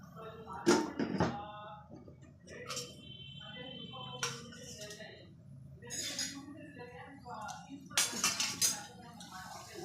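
A metal lid clanks onto a pot of tomatoes cooking with turmeric and salt. Two clusters of sharp clatters, one near the start and one near the end, ring out over quiet kitchen background.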